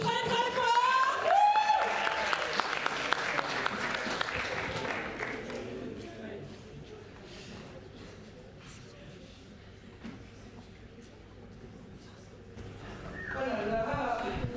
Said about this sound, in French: Nos comédiens sont enfin prêts, on les applaudit très très fort.